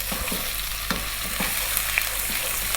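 Ginger garlic paste sizzles in a pan with browned bone-in lamb for a Punjabi curry, a steady close frying crackle broken by a few soft stirring scrapes and pops, no talking.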